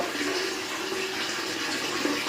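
Water pours steadily from a tap into a sink or tub at close range, a continuous broadband rush with no clear cut-off heard before the end.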